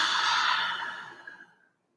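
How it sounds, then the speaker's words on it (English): A single deep breath at the close of a stretching session, a soft airy inhale that swells and then fades into silence, close to the mic with no talking. "let's just take a deep breath together just to close off our practice. So in your comfortable seat, let's inhale."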